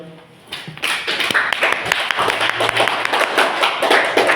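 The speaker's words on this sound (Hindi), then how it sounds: "इस बच्चे के लिए ताली बजाओ।" A group in a maths class breaks into applause for a child. Dense, steady clapping starts after a short quiet moment and continues at an even level to the end.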